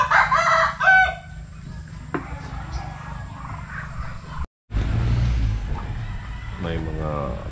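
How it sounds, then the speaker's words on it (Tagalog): Chickens cluck and a rooster crows on a riverside farm in the Philippine countryside, with nearby crowing calls early and later, while someone talks over the birds and ducks. "May mga pato dito, may mga manok."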